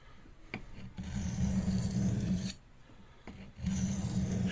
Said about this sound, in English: just the act of pulling this knife across the stone like that will allow it to